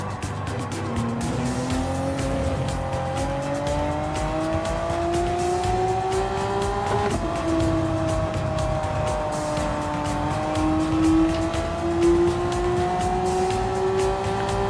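A race car's engine in the Japan GT Challenge racing game climbs steadily through the revs on a slow out lap on cold medium tires, loud and continuous, with the rising whine shifting between gears and no talking over it.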